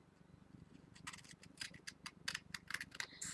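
Scissors cutting around a paper plant picture glued onto cardboard for a garden tag craft; a quick run of close, crisp snips that grow louder after a quiet start.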